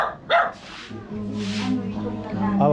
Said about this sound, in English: I don't like dogs like that just bark for nothing